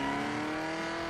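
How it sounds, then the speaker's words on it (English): A loud, steady engine drone of a 1,000-horsepower Camaro muscle car in a video game, deep and constant in pitch, holding at high revs throughout the short moment without any talking. "Sounds how a muscle car's supposed to sound."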